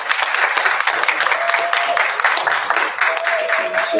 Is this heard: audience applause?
yes